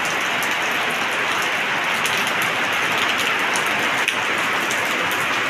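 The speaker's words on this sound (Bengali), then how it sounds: "এই সকাল সকাল বৃষ্টি শুরু হয়ে গেছে।" Morning rain falls steadily, a dense, loud, even hiss of drops on surfaces that barely changes throughout. No voices are heard.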